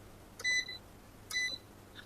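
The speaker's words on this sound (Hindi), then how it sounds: "18 नंबर होता है बजर का बीप" The buzzer of a Smarten Ultra Hybrid 5kVA 24V inverter beeps twice, clear electronic tones about a second apart, with a faint third chirp at the end, in a quiet room.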